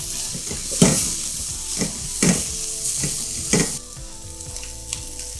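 Ingredients fry in oil in a pot while callaloo is being cooked, giving a steady sizzle broken by four louder stirring scrapes and clatters, with no one talking.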